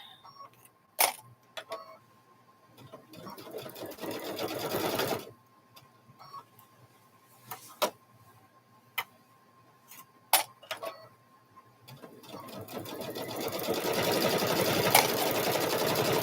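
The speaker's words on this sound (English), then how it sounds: "We're going to stitch this around." A sewing machine stitching around the edge of a quilted Grinch handbag, running in several separate bursts with pauses and clicks between them, then a longer steady run at the end, close and moderately loud.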